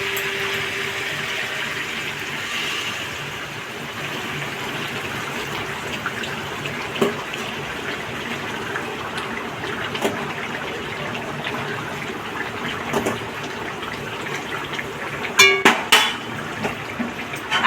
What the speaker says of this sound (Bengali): পাশে গরম জল করে রেখেছি, গরম জল হচ্ছে, দিয়ে দেবো।